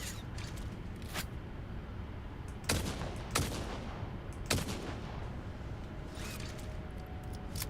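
Gunfire aimed at a tough creature in the factory-building game Satisfactory: a few sharp, separate shots that stand out over a steady rumbling background, with no talking.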